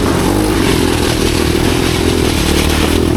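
A go-kart fitted with a cheap 250cc five-speed engine roars loudly and continuously up close, its harsh engine note dense and unbroken through the short stretch.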